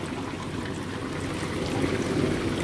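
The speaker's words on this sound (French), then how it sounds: "dans le milieu de la panne, là, ça bouille" Maple sap boiling in an evaporator pan at a sugar shack makes a steady, dense bubbling roar that keeps its level throughout with no breaks, heard close up with no voices.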